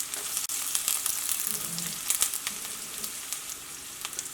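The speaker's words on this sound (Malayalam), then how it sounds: "ഇതെല്ലാം കൂടിയിട്ട് നന്നായിട്ടൊന്ന് വഴറ്റിയിട്ട് എടുക്കുക" Chopped onion, ginger, garlic and green chili sautéing in hot oil after mustard seeds pop, for an egg curry: a steady close sizzle with scattered crackles and occasional stirring scrapes.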